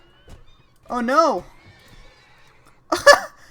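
A horse in The Immortal King video game gives a loud, wavering whinny while fighting an undead skeleton, followed by a short exclaimed voice and a sharp burst of noise.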